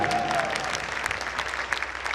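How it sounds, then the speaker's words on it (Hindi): A crowd at a Jain Panchkalyanak temple festival applauds in a steady, dense wash of clapping, moderately loud and continuing without a break. "आपको अच्छा लगा हो दिल खोल के ताली बजा"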